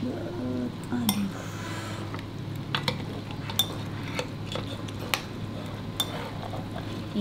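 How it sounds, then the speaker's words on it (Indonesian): A bowl of mie yamin noodles being stirred with a utensil, giving steady close scraping and mixing with sharp intermittent clinks against the bowl, heard alone without talk. "Kita aduk ya, Bu Ayu."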